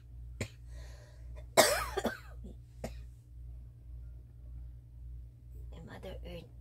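A person with a fever and a loose, productive cough gives several sharp coughs close by, one strong burst followed by smaller ones, with quiet talk and a steady low hum in the background.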